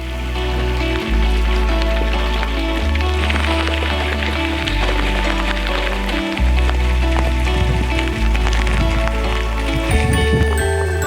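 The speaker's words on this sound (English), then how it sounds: "we're in the midst of another flurry of rain" Rain falls on a Canadian wilderness river during a pike and walleye fishing trip, a dense continuous patter heard up close beneath a shifting, loud low-frequency rumble.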